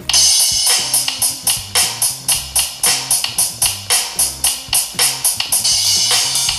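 A basic steady beat is tapped out on the Real Drum app on a Tecno Pova Neo 2 phone, with even kick and snare hits under constant cymbal strikes, loud and close with nobody speaking.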